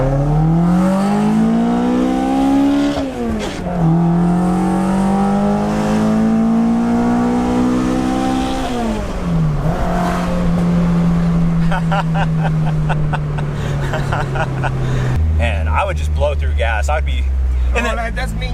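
Toyota AE86 with a 1.7L engine revving hard toward 9,000 rpm, a loud, close engine note that repeatedly climbs in pitch, drops back between gears and then settles, with people talking over it.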